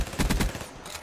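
Bursts of submachine gun fire in Black Ops 3, a quick volley of rapid shots in the first half that stops abruptly, leaving a quieter tail.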